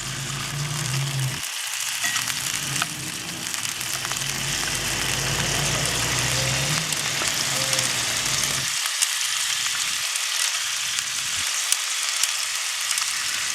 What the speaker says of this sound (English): We're just going to let them sear up just for a minute or two